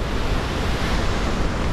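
A waterfall in Sierra Leone pours in a steady, dense roar that fills the whole stretch evenly, close and loud with no breaks and no voices.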